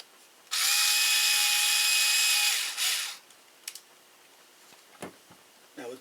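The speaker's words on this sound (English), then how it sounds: "I'll run these in with the drill" A power drill whirs steadily for about two seconds, driving a screw into an RC car chassis, then stops, followed by a few faint clicks and taps.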